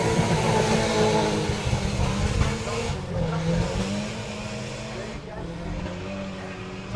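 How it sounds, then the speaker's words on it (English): Toyota MR2 rally car, fitted with water injection, runs a forest rally sprint stage at Ashley Forest, giving a continuous loud roar of engine and gravel noise that barely eases over seven seconds. "Chris Hay from Mossville, with the beautiful MR2 that he develops year after year."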